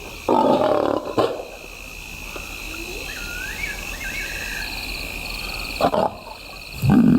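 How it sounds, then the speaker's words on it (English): A big lioness in the wild roaring to her cubs, deep rough calls in bursts at the start and near the end over a steady bed of insect and frog chorus. "The big lioness begins the trek back for her cubs, but the youngsters have heard her call"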